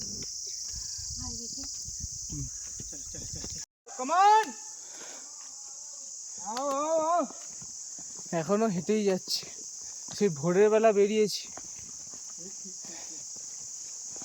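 Crickets keep up a constant high-pitched shrill drone in a mossy mountain forest along the Rohini Bugyal to Chopta trek, steady under intermittent speech and a few footsteps.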